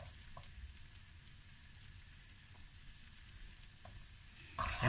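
Fried rice with the firm ends of green onion sizzles quietly in a pan, a soft steady hiss broken by a few faint ticks, ending in a brief louder scrape.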